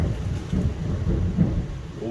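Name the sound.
thunder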